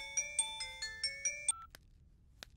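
A mobile phone ringtone plays a short repeating melody of bright electronic beeps, fairly faint, then stops abruptly, followed by a couple of soft clicks in a quiet room.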